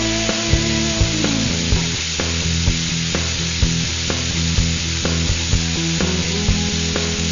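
Onions, garlic and tomato paste sauté in a pan as the base for cioppino, a steady loud sizzle with regular scraping stirs of a utensil, no talking.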